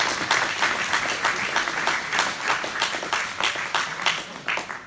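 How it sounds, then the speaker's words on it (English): Sustained, dense clapping from an audience at a local political meeting, loud and close for the whole stretch with no voices over it. "Give him a round of applause, guys."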